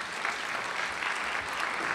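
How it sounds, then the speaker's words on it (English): An audience at a university State of the University address gives a round of applause. The sustained, even clapping from a large crowd fills the whole moment at moderate volume, without speech over it. "give yourself a round of applause"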